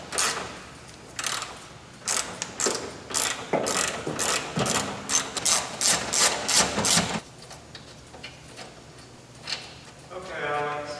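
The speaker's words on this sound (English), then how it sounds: "I'm going to use a 1/2 inch to remove these 2 upper shock mount bolts." A ratchet wrench removes two upper shock mount bolts on a 1970 Ford Mustang, with steady rapid clicking bursts for several seconds up close, then quiet, and a brief voice at the end.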